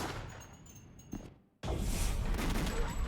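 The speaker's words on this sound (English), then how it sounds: "Gunshot!" A gunshot rings out in a video game, one sharp report cutting off a quiet moment before loud ambient noise resumes.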